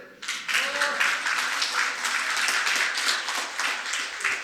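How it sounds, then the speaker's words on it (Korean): Audience applause during a lecture on smartphone productivity tools: dense, steady clapping from a crowd, fairly close and continuous, starting abruptly and holding for several seconds with no talk over it. "죽이면 박수 치세요"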